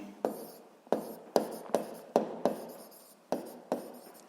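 Chalk or marker writing on a board in a classroom physics lesson: a series of about nine short scratchy strokes in an uneven rhythm, close and clear with no talk.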